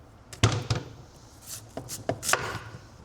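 Knife cutting the ends off carrots on a board: a few crisp, close chopping thunks in an uneven rhythm, two firm cuts early and lighter taps following, with no talking.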